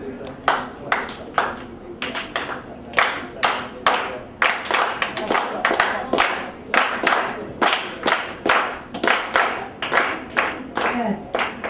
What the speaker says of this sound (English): If you all know the clave clap, you can join along.